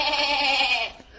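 A single goat gives one loud, close, wavering bleat lasting about a second in a German fairy-tale audio drama, then it cuts off into quiet.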